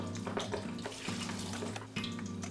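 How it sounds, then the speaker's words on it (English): Cornstarch-coated rice waffle pieces frying in hot oil, a dense, loud, continuous sizzle and crackle with quick popping bursts throughout, heard close up and with no talk. "I'm gonna pop them right into the oil. We're just gonna cook them until the cornstarch gets a little bit crispy"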